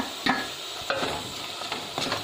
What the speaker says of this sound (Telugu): ఇప్పుడు ఈ మిగిలిన కరివేపాకులు కూడా వేసేస్తాను.